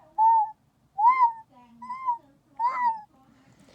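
A person imitates a cat's whine with four short, clipped mewing calls in a quick uneven series, close and clear, each a little briefer than a whimper.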